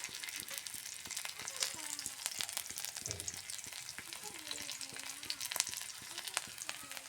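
Garlic and cumin seeds frying in oil on an iron pan, a steady crackling sizzle with occasional spatter pops and stirring scrapes throughout, fairly close; a faint voice is heard briefly.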